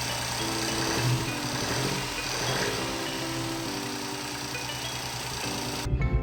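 A MK7 Ford Fiesta 1.0L EcoBoost, just fitted with a new clutch, idles steadily after starting, with a constant buzzy hum heard from inside the car and no talking.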